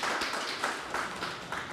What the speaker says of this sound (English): Give him a little light round of applause.